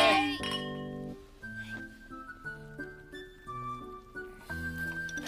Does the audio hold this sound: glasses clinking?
yes